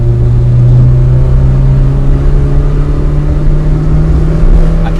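A 1988 VW Mk1 Caddy with a worn clutch accelerates loudly from inside the cab, its engine holding a steady, rising drone over continuous road rumble for several seconds, with no speech.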